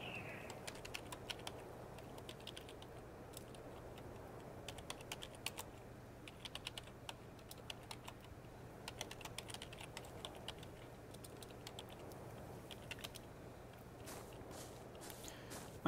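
Rapid, uneven clicking of a computer keyboard being typed on, close and quiet, with bursts of keystrokes and brief pauses throughout.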